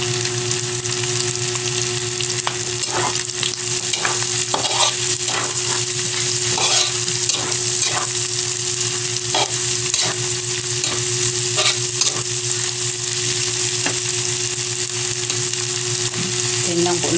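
Onions sautéing in a pan give a steady, loud sizzle with repeated scraping and stirring taps from a utensil throughout.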